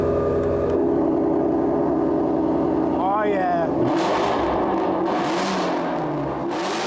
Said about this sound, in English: When you turn on the exhaust, how different it sounds.